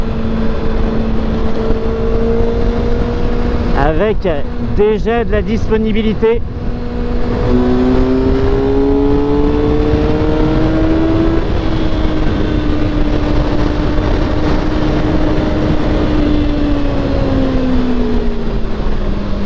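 A Kawasaki ZX-6R motorcycle runs in sixth gear at about 6000 rpm, a steady, growling engine drone with a slowly rising pitch, joined midway by a short burst of someone speaking.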